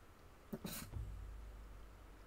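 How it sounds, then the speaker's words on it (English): A cat in the game Stray makes a short burst of close sound followed by a low, steady rumbling purr that continues to the end. "He's purring."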